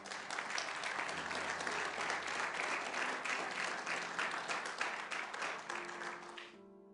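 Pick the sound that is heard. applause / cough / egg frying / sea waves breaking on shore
applause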